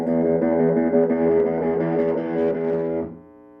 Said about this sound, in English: The more gain you add, the dirtier the tone will get.